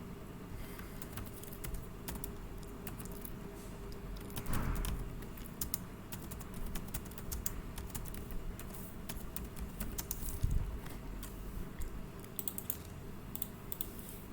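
Keys on a computer keyboard clatter in quick irregular bursts as a project name is typed, close and fairly quiet, with no voices.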